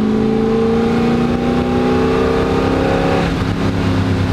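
A 1969 Camaro Z28 accelerating at full throttle in third gear, a loud continuous engine roar rising steadily in pitch, heard up close from inside the car with no talk.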